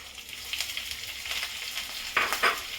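Onions and dried red chilies fry in masala, giving a soft continuous sizzle with light stirring scrapes and a couple of brighter bursts of crackle near the end.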